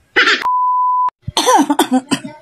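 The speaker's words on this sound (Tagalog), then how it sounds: "Oh, may ubo ka." A single close, harsh cough, then a long steady electronic beep tone, followed by a few throaty coughing and throat-clearing sounds.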